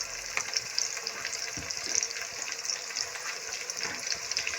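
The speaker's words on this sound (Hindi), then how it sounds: "इन तमाम पाउडर मसालों को हम टमाटर के पानी खुश्क होने तक अच्छी तरह से पकाएंगे" Spice powders cook in watery tomato gravy in a pan, giving a steady close sizzle and bubbling frying hiss with a few soft stirring scrapes, no voices.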